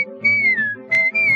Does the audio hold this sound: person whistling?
yes